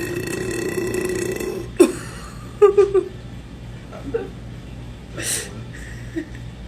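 A woman burps loudly and close, a deep throaty belch followed by a short stuttering run of smaller burps, with faint laughter and voice sounds in between.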